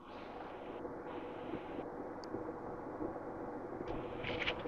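An electric motor in a speed control test rig runs steadily at 1200 RPM, giving a quiet, even drone with no change in level.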